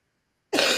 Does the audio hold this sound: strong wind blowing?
no